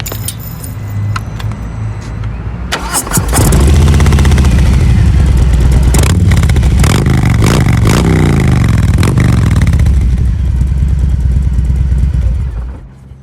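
A Harley-Davidson Low Rider S fitted with aftermarket exhaust pipes fires up after some key jangling and clatter, then settles into a loud, close, throaty rumble with several rising revs before shutting off.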